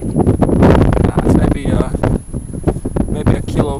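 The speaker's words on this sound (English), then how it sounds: "It's really windy out here" Strong wind buffets the microphone during fishing, a loud, continuous rumbling roar, while a person talks over it.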